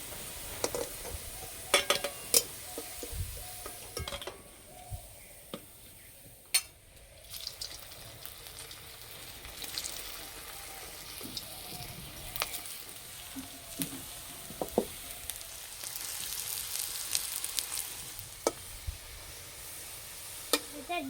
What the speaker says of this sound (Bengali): আস্তে আস্তে জাল দেবো আর ভেজে নেব।